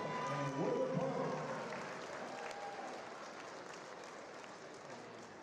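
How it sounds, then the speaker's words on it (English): An indoor crowd applauds the girls basketball teams at a high school game, with steady clapping that fades slowly. A brief tonal sound and some voices are mixed in at the start. "let's have a nice round of applause for the girls basketball team from Cassville, Doyle, and Woodland Park"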